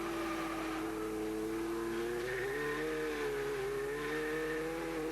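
Production race cars from the 1988 Production Car Championship powering through a tricky chicane, engines loud and continuous with rising and falling revs as they brake and accelerate through the turn, with no talk over them.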